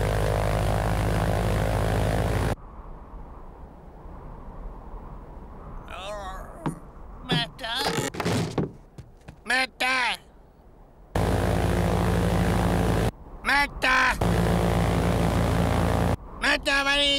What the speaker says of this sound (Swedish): Inte visste jag att du kunde köra flygplan.